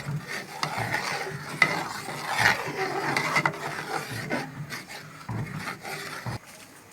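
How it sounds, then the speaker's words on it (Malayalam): A spoon stirring lentil payasam with jaggery in a pot, soft scraping and rubbing strokes that come in irregular bursts, close and fairly quiet, with a faint sizzle beneath. "എന്നിട്ട് വീണ്ടും നമ്മൾ ഇളക്കുകയാണ് നന്നായിട്ട്"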